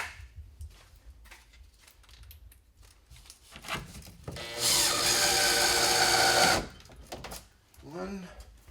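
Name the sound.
power drill driving screws into bathtub front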